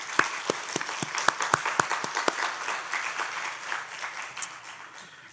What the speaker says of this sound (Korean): 감사와 영광의 박수를 하나님 앞에 한번 올려드리고 싶어요